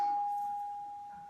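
A single doorbell chime rings as one steady, clear tone that fades slowly over about a second, heard alone without talking.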